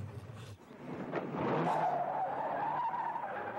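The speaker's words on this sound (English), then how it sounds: "the famous squealing tires on a dirt road" Car tires squealing and skidding on a dirt road, a sustained loud screech over engine rumble that swells after a brief dip and holds steady to the end.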